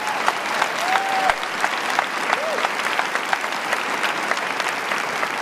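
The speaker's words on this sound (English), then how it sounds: "Give them a round of applause" Loud, dense applause fills a keynote hall at a women's leadership event, a sustained round of clapping from a large crowd with a couple of brief whistles over it.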